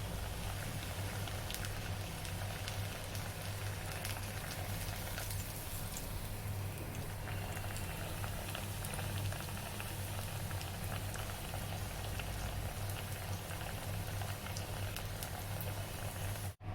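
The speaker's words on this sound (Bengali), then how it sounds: "এইভাবেই আমার দুপিট ভালো করে ছাঁকা তেলে ভেজে তুলে নিতে হবে" Slices of taro coated in turmeric deep-fry in plenty of hot oil, giving a steady, dense sizzle and bubbling that carries on loudly and evenly throughout, with no talking.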